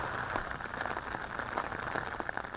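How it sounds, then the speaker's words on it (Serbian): Steady rain falling during widespread rain and flooding in Montenegro, a dense, even patter of drops on surfaces, continuous and fairly soft throughout with no voices. "kiša koja neprestano pada u većem dijelu Crne Gore"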